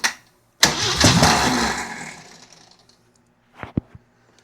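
A Jeep CJ7 engine cranks in one long grinding burst that fades without catching, followed by a couple of short clicks and thumps, close and loud.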